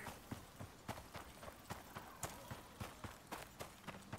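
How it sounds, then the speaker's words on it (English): Horse hooves clip-clop in the survival video game Icarus, a steady run of sharp, evenly spaced hoofbeats, fairly close and moderately quiet over a faint ambient background. "that's a horse, you don't want to play with it"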